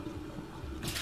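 Water pours out as cooked green bananas are drained, a short rushing splash that swells near the end of the moment, close and fairly loud with no talking.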